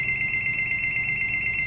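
A telephone rings nearby with a steady electronic warble that runs continuously and alone at moderate loudness.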